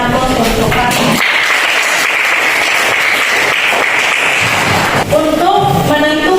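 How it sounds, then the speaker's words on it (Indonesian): A classroom audience applauds a student presenter after a chemistry talk, with a few seconds of steady, dense clapping between stretches of speech. "Oke, kita berikan aplaus untuk Fatma."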